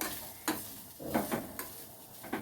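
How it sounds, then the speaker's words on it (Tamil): Grated coconut sizzles softly in ghee in a hot pan, broken by several scraping stirs at irregular intervals, close and fairly quiet with no voices. "அது ஃப்ரை ஆகிற சவுண்ட் நல்லா கேட்குது."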